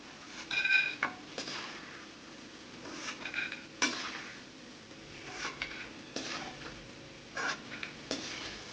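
Fried peanuts scooped out of hot oil in a pan for chire pulao, a series of scattered metallic scrapes and clinks over a faint background sizzle, close and quiet with no talk.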